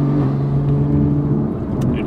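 A turbocharged car engine drones steadily with low harmonic tones and a faint turbo spooling whir, holding a constant loud rumble without clear revving peaks.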